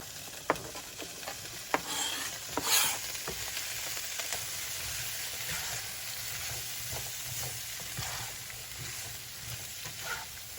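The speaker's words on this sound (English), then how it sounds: "So now we're gonna throw our onion in." Chopped onion tossed into a pan for sausage and peppers pasta, giving a quiet steady sizzle with a few sharp clinks and scrapes near the start.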